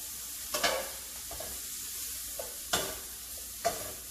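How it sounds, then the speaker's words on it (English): Food is stirred in a pan over a soft sizzle, with three or four distinct scraping strokes spaced across a few seconds, close and fairly quiet. "Just get it started stirring around."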